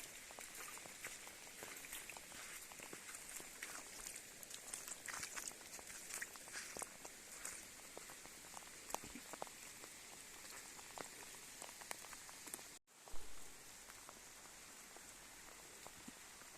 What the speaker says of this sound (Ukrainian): дощик не перестає